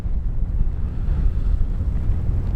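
Strong wind buffets the microphone outdoors on a Greenland expedition, a constant low roar running steadily throughout without any speech.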